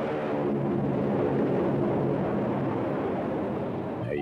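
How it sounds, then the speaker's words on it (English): A steady, dense roar of an airplane engine fills the whole stretch, loud and unbroken, with no voices over it. "That's an airplane."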